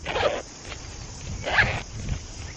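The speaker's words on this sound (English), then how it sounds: "It's got 2 little zips like that." Two short zipping strokes on the small pouch of a lightweight hiking towel, close by and quiet, separated by about a second with faint handling rustle between them.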